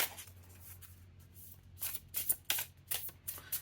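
A tarot deck gets an overhand shuffle close up, with soft card slides building into a run of crisp papery flicks in quick bursts, and no talk.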